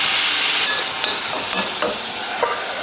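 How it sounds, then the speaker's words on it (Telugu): Bottle gourd pieces fry steadily in a pan over a low flame, a continuous soft sizzle with a few light stirring clicks, with no one speaking. "చక్కగా లో ఫ్లేమ్లో పెట్టుకుని వేయిస్తే ముక్క మంచిగా మగ్గుతుంది"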